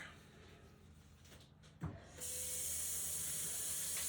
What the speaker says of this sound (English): I'm going to rinse that off real quick